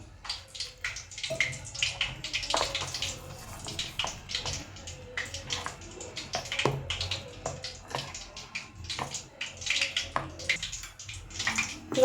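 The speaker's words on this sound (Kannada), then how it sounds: "ಇನ್ನು ಸ್ವಲ್ಪ ನೀರು ಆ್ಯಡ್ ಮಾಡ್ಕೊತೀನಿ" Water splashes and trickles in uneven bursts into brinjal bajji batter, close by, with soft wet clinks and sloshing throughout.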